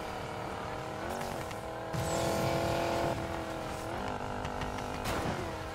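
A Porsche racing in the video game Need for Speed Payback, its engine revving and rising in pitch through gear changes alongside tire squeal and skidding noise, loud and continuous with surges in intensity.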